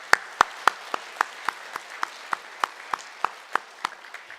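Church congregation at a Sunday service applauding, a run of about fifteen sharp, evenly spaced claps in a steady rhythm, fairly close and with no talk over them.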